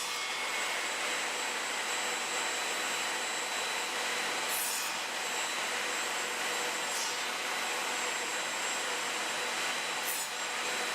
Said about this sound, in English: But multiple passes with a regular blade works just fine.